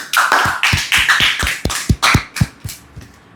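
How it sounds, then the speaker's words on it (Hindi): A group of people applauds together at the close of a talk session, a steady run of close, sharp hand claps that thins out and fades toward the end. "आप सब लोग अपने लिए तालियां बजाइए।"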